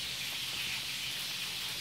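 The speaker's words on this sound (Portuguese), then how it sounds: "é fritando carne aqui" Meat frying in a pan at home, a faint steady sizzling hiss, continuous and unbroken, heard alone without talking.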